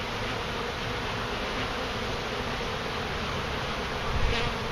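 Dense, steady buzzing of many honey bees during a hive removal, a continuous close swarm drone filling the whole stretch with a slight swell near the end.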